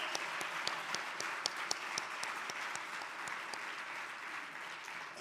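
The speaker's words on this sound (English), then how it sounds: "Let's give all the women a big applause" Applause from an audience at a women's hall of fame convention luncheon, a steady wash of many hands clapping with a few sharp individual claps standing out, sustained throughout at moderate loudness.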